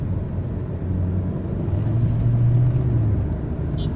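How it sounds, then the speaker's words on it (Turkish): Car engine rumbling as the gas is pressed with the clutch held down, a steady low drone that swells into a rising rev around the middle before easing off, close and moderately loud, with no talk. "Şimdi gaza yüklenip debriyaja basacağım"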